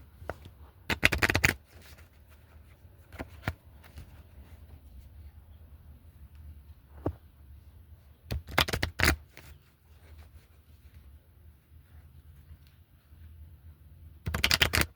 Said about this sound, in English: As usual, 3 shuffles.